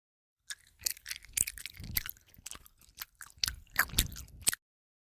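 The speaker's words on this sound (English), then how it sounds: "This wet, nasty chewing sound could be heard throughout the entire apartment." Wet, squelching chewing and crunching from a creature eating, a run of close, irregular bites and tearing smacks that stop abruptly at the end.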